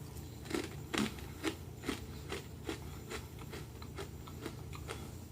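Crunchy ginger crackers bitten and chewed up close, a series of sharp, crackly crunches repeating roughly every half second over a steady low background hum, with no talking.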